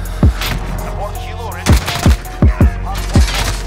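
Gunfire in the video game Modern Warfare: six sharp, loud shots in an uneven burst, one early, then a tight cluster of five, each with a deep punchy thump over a steady background of game ambience.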